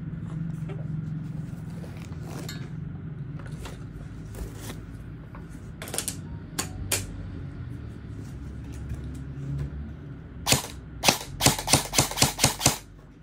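An EMG MPX airsoft gun is test fired: scattered sharp single pops, then a rapid full-auto burst of close, snappy shots near the end over a faint low background hum.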